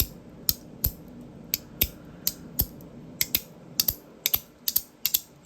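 A fidget toy clicks sharply, close up, in an irregular run of loud single clicks and quick pairs.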